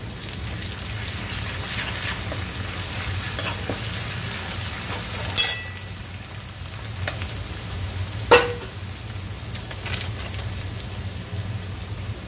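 Ginger-garlic paste sautéing in a pan for a Vidarbha-style dal kanda, a steady soft sizzle with stirring scrapes and a couple of sharper clinks, close and moderate, no talking.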